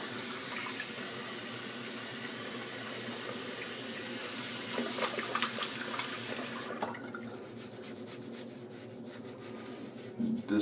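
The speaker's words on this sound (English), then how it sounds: "Let me go ahead and get my face wet." Tap water runs steadily into a sink as a face is wetted before a safety-razor shave, a close continuous rush that thins out about two-thirds of the way through.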